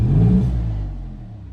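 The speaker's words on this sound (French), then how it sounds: "Je pense que tout le monde est d'accord à dire que ce moteur est très appréciable pour nos oreilles." Maserati MC20 Cielo convertible engine revving, a loud close burst of deep rumble that fades and settles over about a second and a half, with no talk.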